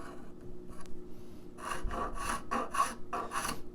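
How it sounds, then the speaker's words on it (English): Sharp razor file beveling a wooden guitar heel cap: a few light scrapes, then a run of five or six rhythmic, close rasping strokes, alone without talk. "It's kind of a little bit sketchy doing that with a file, even a sharp razor file"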